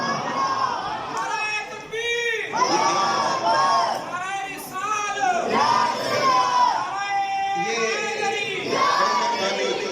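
A large crowd at a Mehfil-e-Milad religious gathering shouts religious slogans together in loud, repeated unison bursts, the voices rising and falling in waves with brief gaps between calls.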